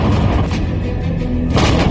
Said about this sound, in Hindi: राजपथ पर पहली बार गरजते धनुष तोप में इतनी ताकत है